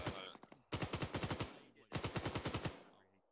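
Machine gun fire in the video game Arma 3, two long rapid bursts of evenly spaced shots with a few scattered single rounds before them, loud and sharp rather than distant.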